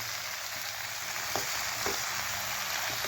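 Gongura leaves fry in a pan with a continuous bright hiss of oil, broken by a few soft scrapes and taps of a spoon stirring, all close and without talk.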